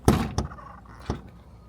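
A car door is pushed against a frame it won't latch into, giving three dull thuds in quick succession, the first loudest, with a quiet pause between the later knocks and no talking.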